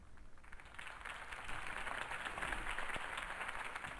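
Steady crowd applause in a Batman video game, a dense wash of many hands clapping at moderate distance, holding constant throughout without any voices on top.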